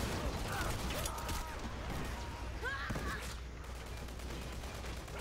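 Gunfire in the online shooter Dirty Bomb: a rapid fusillade of shots with mechanical clatter and small sci-fi chirps, fairly loud and continuous, mixed with game effects and faint background chatter.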